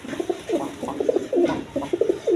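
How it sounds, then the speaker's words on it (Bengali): Red pigeons at a breeders' market cooing in repeated soft, rounded bursts, close and clear over faint background hum. "কবুতর আছে, রেড কালার। দেখেন একদম কোয়ালিটি সম্পন্ন কবুতর।"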